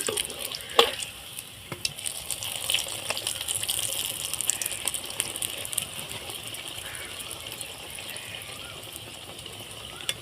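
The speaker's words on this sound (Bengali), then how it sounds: "আমি এখানে একটু বেশি তেল দিয়ে ভেজে নিচ্ছি" An aloo paratha shallow-fries in a generous amount of oil, giving a continuous close hissing sizzle with a few sharp spatula taps and clinks near the start.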